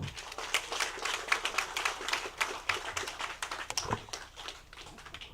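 Audience applause at a pageant event, a dense patter of many hands clapping steadily throughout, fairly close and moderately loud, with no speech over it.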